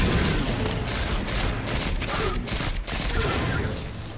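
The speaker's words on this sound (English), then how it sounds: "Oh, it's a burst fire." Burst-fire weapon shots in the video game Destiny 2, a dense, loud wash of gunfire and booms with no clearly separated bursts, running steadily for about four seconds.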